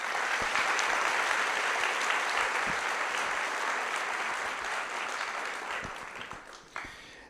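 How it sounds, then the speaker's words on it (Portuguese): A theatre audience applauds at a talk event, dense clapping from many hands that holds steady and then tapers off near the end. "Senhoras e senhores, aplausos a eles."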